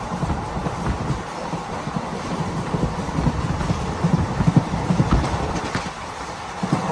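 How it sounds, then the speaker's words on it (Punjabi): A train arriving at a station rumbles steadily past at close range, wheels clattering in a rapid, uneven rhythm over a constant mechanical roar. "ਅੱਜ ਟਾਈਮ ਨਾਲ ਟ੍ਰੇਨ ਪਹੁੰਚ ਗਈ"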